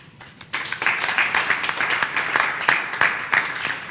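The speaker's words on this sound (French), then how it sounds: "cela mérite d'être applaudi" An audience at a Mercy Ships campaign launch event in Benin breaks into dense, sustained applause, with many hands clapping together and loud throughout after a brief quiet start.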